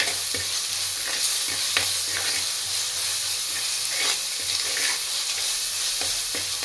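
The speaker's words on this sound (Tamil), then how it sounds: "உப்பு போட்டுட்டு நம்ம கிளறும் போது என்ன ஆகும் அப்படின்னு பார்த்தீங்கன்னா சட்டியில் வந்து கீழே அடியில் வந்து பிடிக்காமல் இருக்கும்" Crab curry with salt stirred in a pan, a dense, steady sizzle and hiss with frequent scraping and clattering of the spoon against the pan, close and loud throughout.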